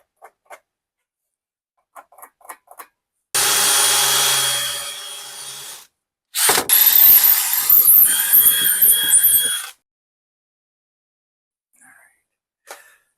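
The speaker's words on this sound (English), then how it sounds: "drilled a couple holes" A power drill bores holes into a shovel, two separate loud whirring and grinding bursts of a few seconds each, up close, with soft clicks and handling noises around them.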